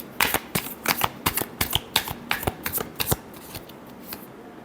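Tarot cards shuffled by hand in a run of crisp, riffling bursts that come close together and then thin out toward the end, with no talking over them.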